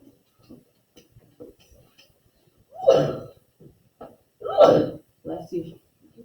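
A sneeze in a math classroom during a lesson on factor trees: two loud, abrupt bursts stand out against quiet, intermittent speech from the teacher.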